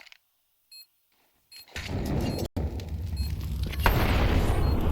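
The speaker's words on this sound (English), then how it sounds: "Molly drops backside, nade to follow suit." Molotov and grenade blasts in Counter-Strike 2 during a competitive match, a few faint beeps first, then a loud burst and a sustained roaring rush of fire and explosion that keeps rising.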